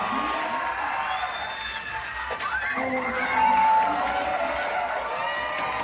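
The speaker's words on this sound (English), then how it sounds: "A major roar out here at X Games SLC." Large crowd at the X Games Salt Lake City women's skateboard park, Utah State Fairgrounds, roaring and cheering in a continuous dense wash of voices with whoops and whistles, swelling louder midway.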